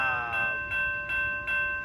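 An Amtrak Capitol Corridor passenger train passing through Oakland, California, heard from a distance. Faint, steady rumble with rhythmic swells, and bright bell-like ringing tones that fade in and out.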